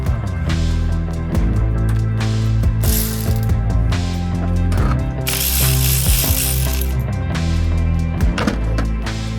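A ratchet tool working on the diesel injection pump of a Land Rover Defender, loud close clicking ratchet strokes in quick repeated bursts with metallic mechanical rattles between them, no talking.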